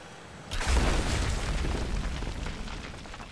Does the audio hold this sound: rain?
no